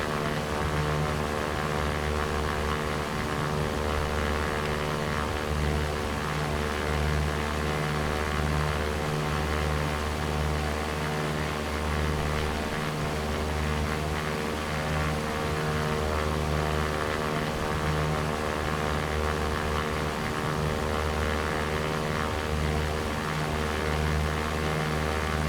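A single-engine propeller plane cruises at steady power in X-Plane 11, somewhere between San Jose and San Francisco, giving a continuous loud droning hum with a constant tone and no pauses.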